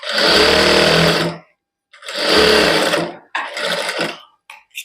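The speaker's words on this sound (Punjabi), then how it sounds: "ਇਸ ਤਰ੍ਹਾਂ ਆਪਾਂ ਇਹਦੇ ਤੇ ਸਲਾਈ ਲਾ ਲਾਂਗੇ" A sewing machine runs in three loud bursts, two long and one shorter and choppier, with brief pauses between, as it stitches a hand-worked suit fitted with double lace.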